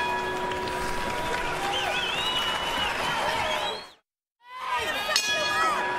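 An arena crowd at the TD Banknorth Garden in Boston during a boxing bronze medal match, Sam Soliman vs Wayne Johnsen, makes a steady roar of cheering, whistles and chatter that cuts out briefly, then returns, under a commentator's voice.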